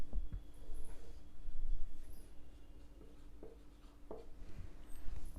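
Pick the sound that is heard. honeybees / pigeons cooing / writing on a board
writing on a board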